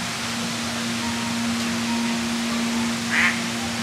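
A duck at Epcot in Walt Disney World gives a brief quack near the end, heard faintly over a steady outdoor hum and background noise.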